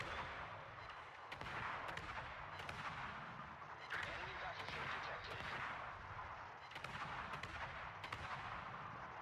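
Royal Navy destroyer guns in a naval video game fire shell after shell, sharp booming reports at an irregular pace over a steady, loud roar of sea and engine.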